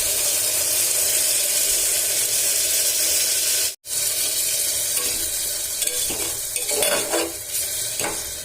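Water from ground spice paste goes into a hot pan of oil during a fish recipe, giving a loud continuous sizzle with a brief cut partway through, then utensil clinks and stirring scrapes over the hiss.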